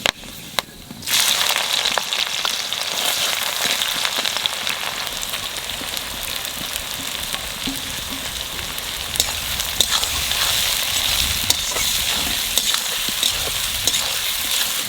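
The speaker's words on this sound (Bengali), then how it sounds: "তেলের উপর দিয়ে দেবো কটা শুকনো লঙ্কা, জিরে, আর দেবো লবঙ্গ," Dried red chillies, cumin seeds, cloves, cinnamon and cardamom sizzle in hot oil with a loud, crackling hiss that starts abruptly and stays steady throughout, with scattered pops and faint stirring scrapes.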